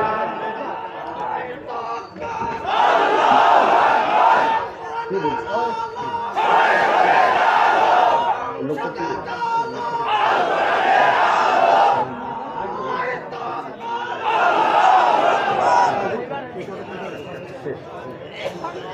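A large crowd at a Jamaat religious rally chants the Nara-e-Takbir slogan in four loud, rhythmic call-and-response bursts separated by short pauses.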